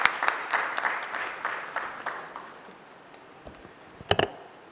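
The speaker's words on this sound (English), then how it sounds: "Please welcome with a round of applause." Audience applause at an industrial launch event for a metal 3D printing machine, a dense patter of clapping that gradually thins and fades, followed by a few louder isolated claps near the end.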